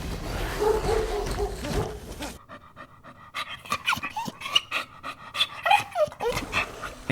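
Dogs at a dog park panting and moving close by, with a burst of rough outdoor noise at the start followed by quicker breathy pants and small yelps.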